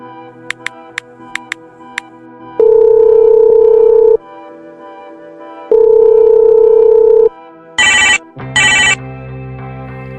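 A phone call is placed in an animated school film. A few quick keypad beeps are followed by two long, loud ringback tones with a pause between them, then a pair of shrill electronic tone bursts, all alone without voices.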